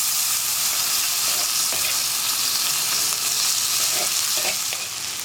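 Sliced bitter gourd and carrot drop into a hot oiled pan with chilli powder, filling the air with loud, continuous sizzling and frying crackle plus faint stirring scrapes, no talking.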